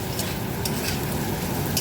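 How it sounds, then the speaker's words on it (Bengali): Cumin and tomato being stirred and sautéed in a pan, a steady close sizzle with occasional soft scraping of the spoon, no talking. "এবারে একটু নাড়াচাড়া করে বাস কিছুক্ষণ একটু কষিয়ে নেব"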